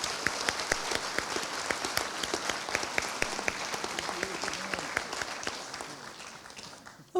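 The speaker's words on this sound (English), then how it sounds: "So if we could give a round of applause," An audience applauds a panel of election candidates at a public forum, a steady, dense wash of many hands clapping that carries on evenly before tapering off near the end.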